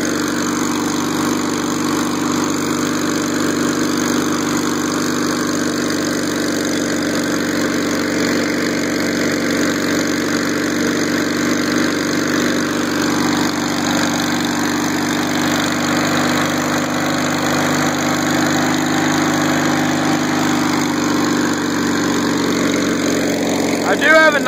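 Gravely Promaster 300 commercial mower engine, which has a throttle issue and a worn muffler, idles steadily with a constant mid-pitched drone and hum, close up and unbroken throughout.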